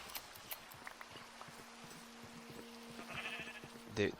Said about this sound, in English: I should shear these sheep.